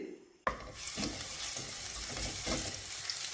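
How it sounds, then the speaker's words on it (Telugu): Garlic sizzles in hot oil for fried rice, with a sudden burst of frying as it hits the pan and then a steady crackle broken by periodic stirring scrapes. "వెల్లుల్లిపాయలు మంచిగా ఫ్రై అయిపోయినాయి."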